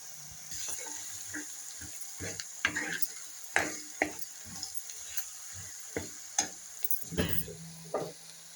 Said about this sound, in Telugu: అల్లం ఎల్లిగడ్డ పేస్ట్ వచ్చేసి పచ్చి వాసన పోయేంత వరకు నూనెలో మంచిగా ఫ్రై చేసుకోవాలి